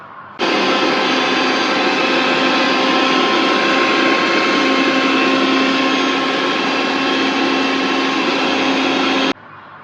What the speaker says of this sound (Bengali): তো এই দেখেন আমরা এটা রুটিটা এখন ব্লেন্ডার করে নিতে আসি